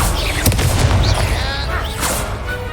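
A Confringo fire spell explodes in the Hogwarts Legacy video game, a loud deep boom with a roaring rumble that fills the short moment, layered with game effects and swishing magical sounds.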